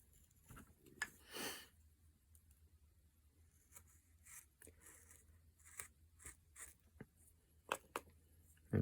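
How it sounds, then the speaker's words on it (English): A carving V tool scrapes and cuts through a wood figure in a series of short, soft, close strokes with quiet pauses between them, and no voices are heard. "now we'll cut that again with our V tool"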